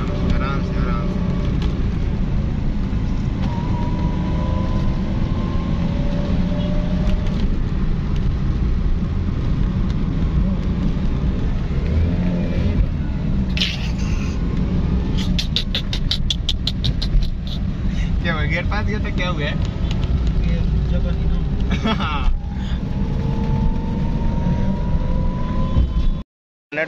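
A new car drives along as the driver shifts down through the gears, its engine droning steadily and close, with the pitch rising and falling as revs change over nearly half a minute.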